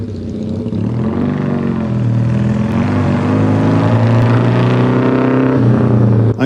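A classic 1970s Norton Commando motorcycle engine runs steadily and loudly throughout, a continuous low, throaty drone with a gentle rise in intensity, close by with no voices.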